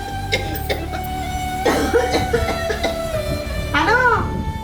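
A person in a village setting coughs several times, rough bursts spread across the moment, close and fairly loud over a steady background hum.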